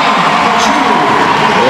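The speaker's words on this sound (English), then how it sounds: "You hear this crowd just encouraging Gene Kaju" Basketball arena crowd at a men's college game roars and cheers loudly and continuously, a dense wash of voices close and enveloping for the whole moment.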